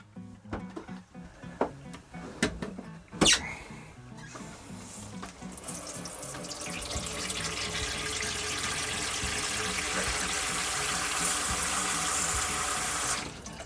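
Scattered clicks and knocks give way to a steady, loud hiss of shower water running in an RV that continues evenly, nearby with no speech.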